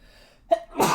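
One short, explosive sneeze bursts out close to the mic after a quiet intake of breath.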